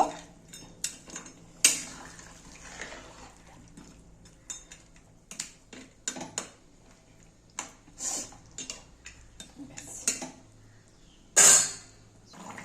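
A spoon stirs fish heads into a boiling Bengali potato curry in a pot, giving scattered metallic clinks and scrapes against the pot with brief pauses between strokes, close and fairly quiet.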